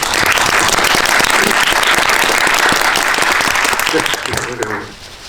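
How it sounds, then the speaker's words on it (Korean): A crowd at a Korean film screening and guest talk gives a big round of applause, sustained and close, fading out as a voice begins speaking. "자, 큰 박수 한번 보내주십시오"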